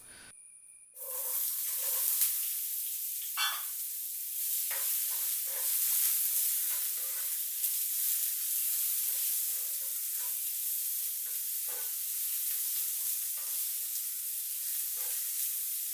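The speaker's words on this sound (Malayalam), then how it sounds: "ഒരു സബോള ചെറുതായി അരിഞ്ഞ് ചേർത്ത് വഴറ്റിയെടുക്കണം" A loud, steady sizzle of chopped onions frying in oil, with occasional stirring scrapes, continuous and close.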